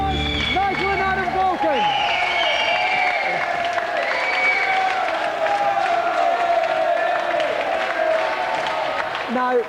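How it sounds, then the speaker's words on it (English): Studio audience at a video game show applauding and cheering loudly and continuously, with a dense crowd roar under a host's voice speaking over it at the start. "Have a round of applause, Nigel and Adam"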